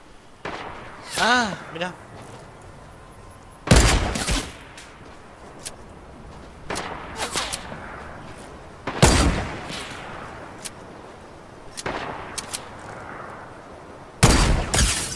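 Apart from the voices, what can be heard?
gunfire shooting at the player in a video game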